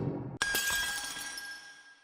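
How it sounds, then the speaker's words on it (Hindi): A cup falls and shatters in one sudden sharp crash. Bright ringing shards of debris follow and fade away over the next second and a half. "फरहान के हाथ से कप गिर गया।"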